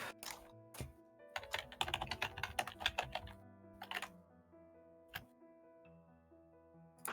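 Someone taps away on a computer keyboard nearby, with bursts of rapid keystrokes followed by sparser, isolated clicks in a quiet room.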